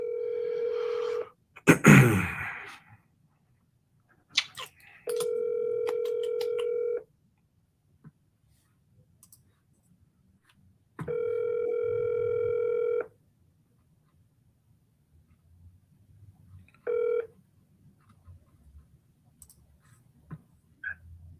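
A phone call going unanswered: a burst of dialing tones and clicks, then three evenly spaced ringback tones of about two seconds each, with a short final blip and quiet gaps between.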